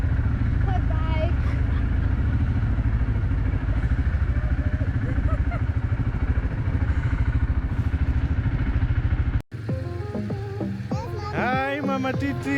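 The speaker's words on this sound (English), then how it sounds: "Quad bike." A quad bike engine runs steadily close by while riding, a continuous rumbling drone with rattling, and voices talk over it near the end.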